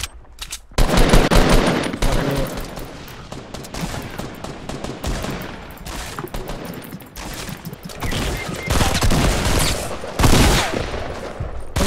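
Pistol gunfire in Fortnite Battle Royale rattles off in rapid bursts, loud and close, mixed with sharp impact cracks and game effects across the whole stretch.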